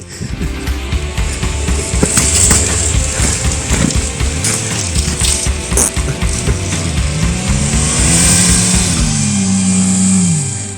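A Mercedes W202 1.8 drifts on snow nearby. The engine drones and revs rise and fall over a constant rushing roar, and it climbs to a sustained high rev near the end.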